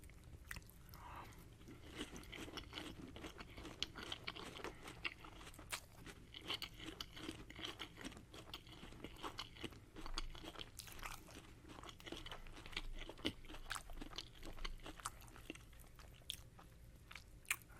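Crunchy breakfast cereal chewed close to the microphone in a quiet ASMR setting, a steady run of crisp crunches and mouth sounds across the whole stretch with hardly any talk.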